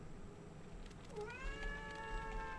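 Cat meowing in World of Warcraft, a drawn-out, rising then falling meow over a faint steady background, heard once and fairly quiet.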